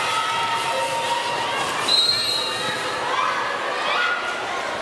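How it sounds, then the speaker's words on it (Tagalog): Crowd at an indoor volleyball league game in a sports center, a steady broad roar of cheering and shouting filling the whole stretch, with brief louder swells and a commentator talking over it. "The crowd is loving this game."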